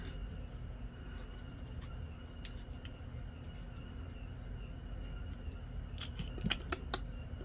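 Scissors snip through fabric scraps while pockets are assembled from leftover pieces. Quiet, close crisp cuts sound over a steady low room hum, with a small cluster of sharper snips near the end.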